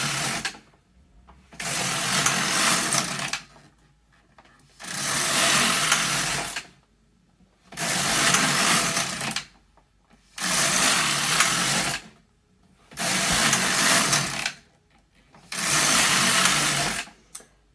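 A domestic knitting machine knits rows of yarn fed from balls, its carriage making six loud whirring passes across the bed at a steady rhythm, each separated by a short pause, with no talking.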